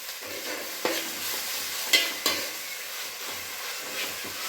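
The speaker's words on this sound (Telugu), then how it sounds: "పచ్చివాసన పోయే వరకు వేయించుకుంటే చాలు" Masala frying in a pan for an okra and prawn curry, a low steady sizzle punctuated by a few sharp spatula clinks and stirring scrapes, no talking.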